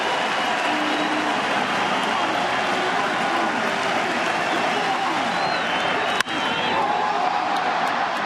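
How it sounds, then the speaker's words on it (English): A Fenway Park baseball crowd at an ALCS playoff game against the Tigers rises to its feet, a dense sustained roar of cheering and applause from a large distant crowd, with a brief dropout near the end. "Crowd to its feet."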